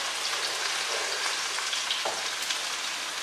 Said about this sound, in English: Here's my wooden spoon. Just stir that up.